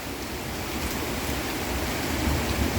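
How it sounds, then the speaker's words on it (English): Rain falls steadily outdoors, a dense, even wash of hiss that holds at a constant moderate loudness with no voices over it. "she's raining out here."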